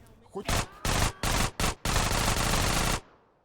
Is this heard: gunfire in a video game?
yes